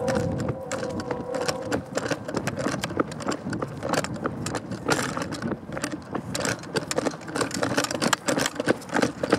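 A train passes close by with continuous rattling, clanking wheel-and-rail clatter and a low engine drone, irregular bursts of metallic noise throughout.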